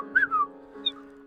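A person whistles softly to imitate a little brass whistle, giving a few short, clear, gliding tones, a sustained note and a brief high chirp, close and quiet over a faint steady hum.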